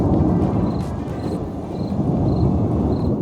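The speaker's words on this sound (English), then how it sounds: "There was an epic lightning storm." Deep, rolling thunder from an epic lightning storm, a loud sustained low rumble over the full few seconds, with faint repeated high chirps above it.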